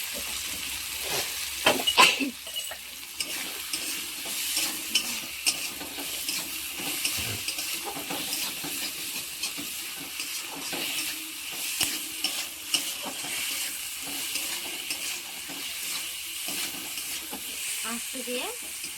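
Food stirred and frying in a pan just after salt goes in, a steady soft sizzle with occasional scrapes of a spoon, fairly quiet and continuous, with faint voices in the background.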